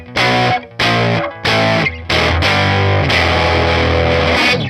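Electric guitar with both bridge and neck pickups through a Universal Audio Woodrow 55 amp, distorted chords struck in three short stabs and then a longer sustained strumming passage, loud and close with no voice.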